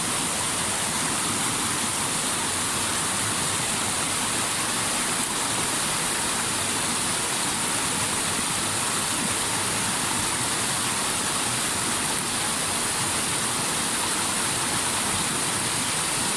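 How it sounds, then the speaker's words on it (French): A waterfall on a trout stream pours into a deep pool below, a steady, loud, close rushing roar of water with no break or voices. "on peut voir une cascade, ce qui va créer une fosse tout en bas"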